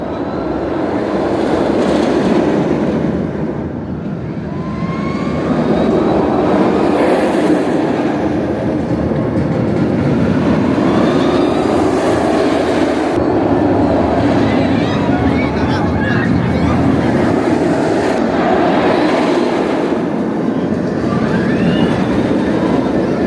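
The El Toro wooden roller coaster at Six Flags Great Adventure rumbles along its track in a loud, continuous roar, with rattling and clatter swelling and easing over time.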